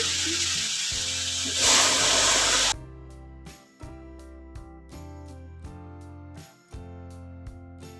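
Boiled mung dal goes into a pan of turmeric and dried chilli powder, bursting into a loud, hissing sizzle for a few seconds. Quieter spoon clinks and scrapes follow as the mixture is stirred.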